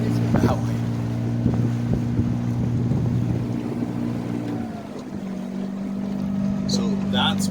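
A motorboat engine drones loud and close while cruising on windy open water, its hum shifting in pitch partway through as the boat picks up speed. People talk nearby.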